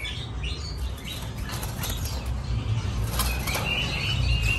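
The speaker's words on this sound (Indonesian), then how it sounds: "Banyak ya burungnya ya." Many birds flap their wings inside a bird shop, a busy flutter of wingbeats with scattered chirps and calls over a steady background hum.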